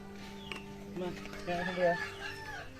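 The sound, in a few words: chicken clucking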